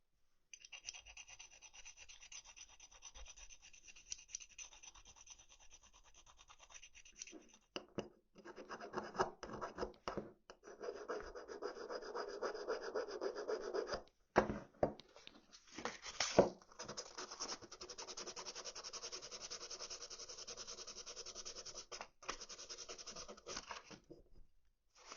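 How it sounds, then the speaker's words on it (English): Steady rasping scrapes of sandpaper rubbing over the seams of a Battleship Yamato plastic model ship, continuous with short pauses, close by and moderately quiet. "I'm just going to start by sanding all these seams down."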